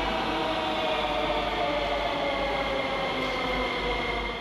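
A Sofia metro subway train running underground, a loud, continuous rumble and roar of wheels on rails with a steady low drone and no talk.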